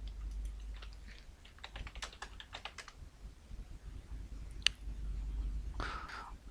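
Quiet keystrokes on a computer keyboard as a search is typed, bursts of soft clicks with short pauses and a final key tap, over low room hum.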